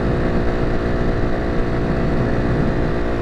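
A dirt bike's engine drones steadily while riding, a continuous loud buzzing hum with slight wind rush, no pauses or gear changes across the few seconds.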